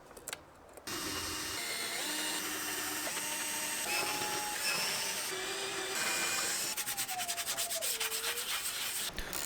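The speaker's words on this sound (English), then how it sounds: "found the centers of the bracket bolt holes," A power drill bores bolt holes for a bracket on a Suzuki Jimny, whining steadily with pitch shifts as the bit bites in, then slowing to a stuttering grind near the end, with no one talking.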